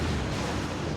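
A big, close explosion in the space game Star Trek Online: a dense, steady rumbling roar with a deep low end that fills the whole second at full strength, with no talk over it.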